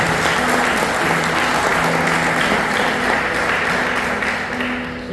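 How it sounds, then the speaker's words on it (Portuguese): A church congregation breaks into loud, dense applause during a sermon, a continuous roar of clapping hands with a faint musical tone running underneath, holding steady for about five seconds before tapering off. "dê uma salva de palmas"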